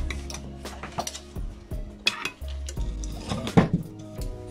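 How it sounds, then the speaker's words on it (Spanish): Dishes and utensils clink and scrape as a salad dressed with lemon, salt and garlic powder is stirred in a home kitchen, with irregular close knocks against the bowl over a low steady hum. "Y ahora hay que revolver todo súper bien."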